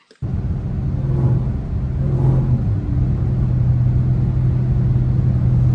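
Dodge Hellcat engine bursts into a loud, deep rumble after a brief silence, then holds a steady heavy drone with slight swells as the throttle is worked, heard close from inside the car.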